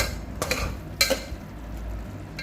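A spoon stirs a chickpea gravy with fresh coriander leaves in a pot, producing a few soft scraping strokes and light metallic clinks over a faint background simmer.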